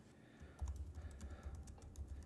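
Typing on a computer keyboard while working in OneNote, a steady run of quiet close key clicks over a low background hum, with no voices.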